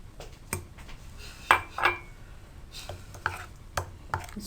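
A spoon stirs cooking oil into a chicken karahi marinade in a bowl, giving a loud, close series of irregular clinks and scrapes against the bowl with short pauses in between.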